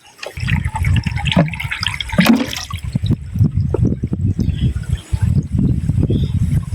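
Clear stream water at Udayagiri hills splashes and sloshes close by as it is scooped by hand, an uneven, continuous stream of small liquid sounds, with a steady low rumble underneath.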